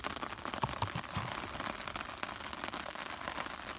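Rain patters steadily on a tarp sheltering a camper in the Canadian wilderness, a dense, even crackle of drops close overhead with scattered sharper hits and no talking.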